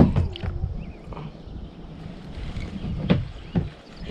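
Wind gusting over open water during a kayak fishing outing, a steady rushing buffet with muffled bumps and splashes near the boat, no talking.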